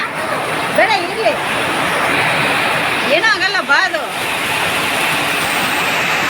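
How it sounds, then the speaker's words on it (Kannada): Loud, constant wash of heavy rain and gusting wind, with a few voices calling out over the roar. "ಸಿಕ್ಕಾಪಟ್ಟೆ ಮಳೆ ಇದೆ ಗಾಳಿ ಇದೆ"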